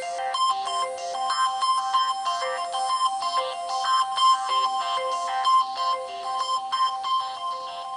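The Samsung Galaxy Nexus stock Perseus ringtone plays as a steady, bright melodic electronic pattern of repeating chime-like notes, even and continuous for several seconds with no voices.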